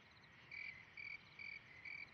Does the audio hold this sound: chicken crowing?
no